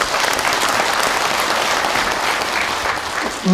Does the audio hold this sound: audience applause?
yes